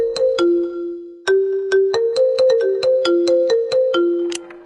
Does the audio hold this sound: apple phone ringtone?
yes